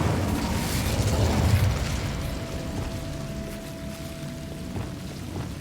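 In Hogwarts Legacy, the Incendio fire spell is cast, producing a dense, roaring burst of flame that swells over the first couple of seconds and then settles into a steady rumbling crackle with a faint lingering tone.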